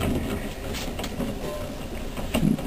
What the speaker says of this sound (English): I'm going to start working on the Bendini Newman motor combination. All right, give this guy a little spin here.